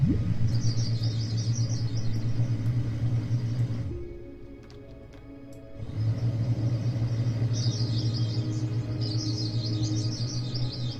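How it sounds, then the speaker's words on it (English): Birds chirp in quick repeated bursts in the video game Everything, over a steady low engine-like rumble. The chirping drops out briefly midway, then returns, with no voices. "Oh, a bunch of fucking birds."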